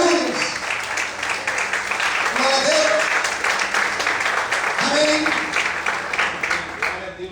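Applause from a church congregation during a service, steady broadband clapping that fills the whole stretch, with a preacher's voice briefly audible over it.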